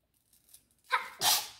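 A single sharp sneeze bursts out after a short breathy intake, loud and close, then fades.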